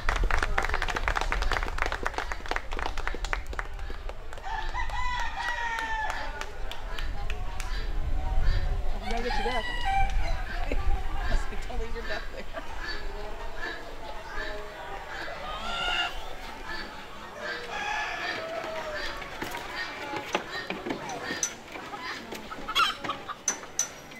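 Chickens and roosters cluck and call at a 4-H county poultry show, with a busy crowd murmuring and people talking throughout, and bursts of applause mixed in.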